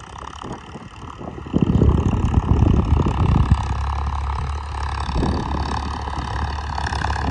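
A Farmtrac 60 F17 diesel tractor engine runs steadily nearby, a low continuous drone that swells louder for a couple of seconds before settling back to an even hum.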